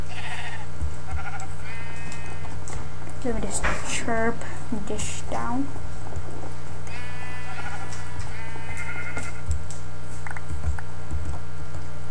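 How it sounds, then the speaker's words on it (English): Sheep bleating in the Minecraft video game, several short wavering bleats scattered across the stretch, mostly around the middle, heard alongside a person talking over game background sounds. "The sheep here is overpopulated."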